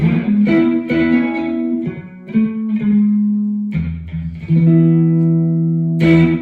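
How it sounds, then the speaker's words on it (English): An electric guitar played through a Spark amp modeling a Fender Twin Reverb, with tape echo and short plate reverb, rings out clean rockabilly notes and chords with a tight slapback repeat. "the tape echo and the classic plate reverb set really short for that kind of slapback 50s rockabilly sound, and of course a Fender Twin reverb"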